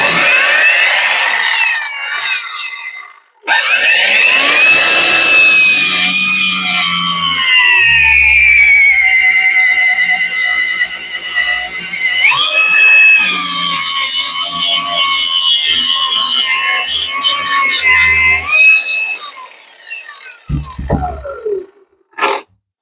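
A Grosser GAG 120 KB angle grinder whines loudly and steadily, its pitch rising and dipping as it works, with brief pauses and a final spin-down at the end.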